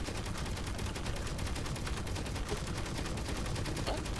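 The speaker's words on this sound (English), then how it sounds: "Ah, turrets." Turrets in the Space Engineers video game fire a dense, nonstop barrage of rapid automatic shots, loud and close throughout.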